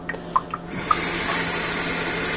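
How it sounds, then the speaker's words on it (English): Tap water runs steadily into a blender pitcher, a continuous hissing fill after a few brief clinks at the start, close and moderately loud. "Fill that up with water."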